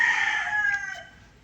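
A rooster crows once, a loud drawn-out cock-a-doodle-doo that fades, followed by a faint short cluck at the end.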